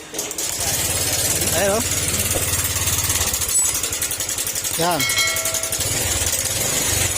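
A Honda Click 150 scooter engine idles with a rough, rattling chug, revving briefly twice, while a person speaks a few words over it.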